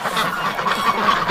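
Several ducks honk and quack in an agitated jumble, loud and close, with overlapping calls throughout.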